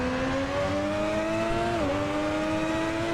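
A simulated Ferrari 641 Formula One engine from 1990, driven in the Assetto Corsa racing game, holds a steady, loud, buzzing high-revving drone that dips briefly in pitch near the end before settling again, with no talking.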